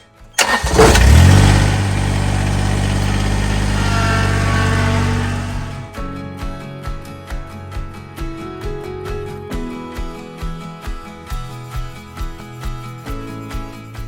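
A loud engine cranks and roars to life, runs steadily for several seconds, then settles into a rhythmic chugging idle.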